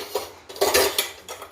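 A bowl and dishes handled in a kitchen give a few close clinks and scrapes of crockery and cutlery in a brief irregular sequence, with no talk.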